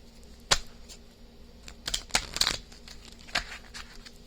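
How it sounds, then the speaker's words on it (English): A deck of reading cards shuffled by hand, several quick riffling bursts with short pauses between them, close and crisp against a quiet room, with no talk. "I'll shuffle these 3 times"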